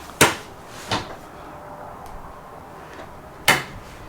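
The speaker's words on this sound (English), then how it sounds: "look how big this drawer is" A large, reinforced kitchen drawer in a 2023 Alliance Valor 29T18 travel trailer slides open and shut, giving three sharp knocks spaced over a few seconds against a quiet room, with no talk.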